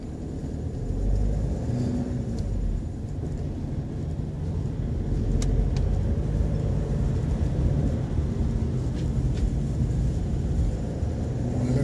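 A car crosses Tower Bridge in London at night, its engine and tyre rumble a steady low drone from inside the cabin, with faint distant traffic clicks and no talking.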